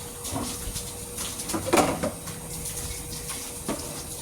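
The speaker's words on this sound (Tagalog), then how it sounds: "pinupuno ko yung balde" Water runs steadily from a tap into a bucket during laundry, a moderate continuous wash of noise with a few brief clanks and knocks, no talking.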